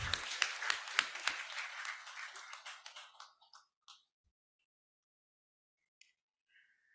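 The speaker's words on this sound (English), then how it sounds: "A huge round of applause." Scattered applause from a Teachers' Day programme audience starts with a few sharp, distinct claps, thins over about three seconds into isolated claps, then gives way to near silence with a couple of faint late taps.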